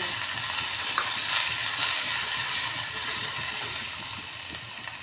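Grated raw mango and ground dal paste hit hot oil with spluttering mustard seeds, giving a steady bright hiss and sizzle throughout, with occasional small pops and soft stirring.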